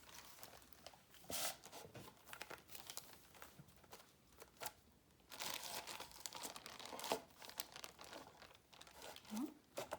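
A plastic sheet crinkles and crackles in bursts as it is pressed down by hand onto glue, with irregular rustles, quiet pauses and a few sharper crunches.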